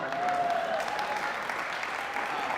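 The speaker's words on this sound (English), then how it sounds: "Let's give it a round of applause right" A room full of people at a video marketing meetup break into steady applause, a continuous wash of clapping with a few faint whoops over it.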